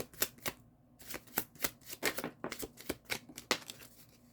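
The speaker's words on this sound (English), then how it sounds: "I just put the cards back in and shuffled" Tarot cards are shuffled by hand in a series of crisp, rapid riffling bursts with brief pauses between them, close and clear with no talking.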